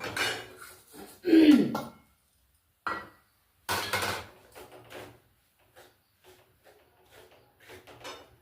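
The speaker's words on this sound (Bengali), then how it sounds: "সুজিটা হালকা ভেজে নেব" Semolina lightly frying in a pan while being stirred, heard as irregular scrapes and metallic clinks of a utensil against the pan, louder early on and then softer, sparse taps.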